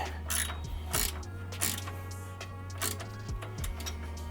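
A ratchet tightens the mounting bolt of a driving beam light, a Diode Dynamics SS5 Pro, producing several short bursts of close, crisp clicking over a steady low hum.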